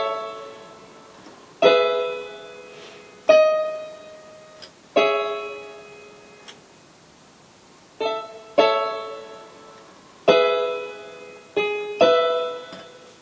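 Piano playing the right-hand part of a song in an arrangement, sparse struck chords and single notes sounding one after another and ringing out between strikes, clear and close with no talking.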